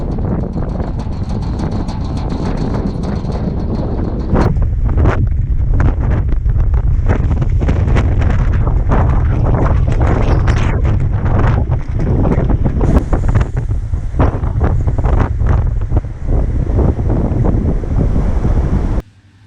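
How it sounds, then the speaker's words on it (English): Strong southwest wind in Ohio buffets a cyclist's microphone, a loud continuous roaring rumble that swells and gusts with crackling bursts for the whole stretch, with no talk over it. "we get a couple days a month that will routinely have 30-mile-an-hour winds coming out of the southwest"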